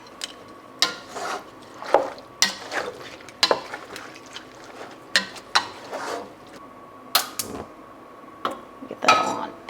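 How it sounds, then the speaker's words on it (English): Tomato salsa stirred in a pot on the stove, with irregular scraping and clinking of a utensil against the pot, close and moderately quiet, in short repeated strokes over a faint steady hum. "Give it a good stir."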